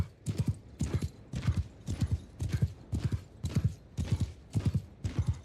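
Horse hooves gallop in a steady, rapid clip-clop rhythm with a faint snort or whinny, all from a video game, close and continuous with no talking.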